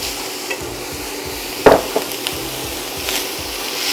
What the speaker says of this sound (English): add some minced onion right to the sausage and let that all cook together